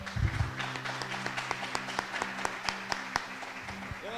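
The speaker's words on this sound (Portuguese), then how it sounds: "Você pode dar um louvor de palmas ao Senhor?" Church congregation clapping in praise to God, a brisk, rhythmic run of handclaps over a sustained low musical tone, fairly close and steady.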